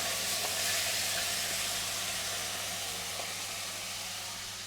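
Food searing in a hot pan while cooking Sri Lankan curry, a steady broadband sizzle and hiss that continues throughout and fades slightly toward the end.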